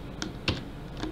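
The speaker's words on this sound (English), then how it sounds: "then you want to type in this command" A computer keyboard clicks as a console command is typed into Garry's Mod, three or four quick, soft keystrokes close to the microphone in a quiet room.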